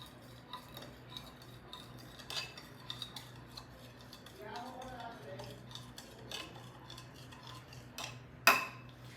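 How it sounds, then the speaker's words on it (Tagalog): Baking powder and water are stirred into a paste with a metal utensil, giving soft repeated scraping and clinking against the dish, with one sharper clank near the end and faint background sounds. "After putting 2 tablespoons of baking powder, you mix a 1 cup of water."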